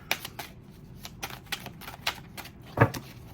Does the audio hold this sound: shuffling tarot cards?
yes